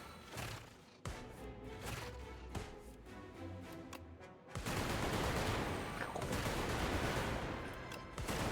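Dense rapid-fire machine-gun shots in the video game Brotato, a sparse rattle at first that turns into a loud, continuous barrage of overlapping hits for the last few seconds.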